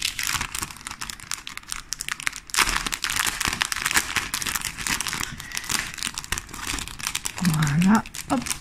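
Paper and plastic wrapping from a Christmas artist trading card exchange parcel, sealed with black and silver masking tape, is crinkled and torn open up close in steady bursts, with brief talk near the end.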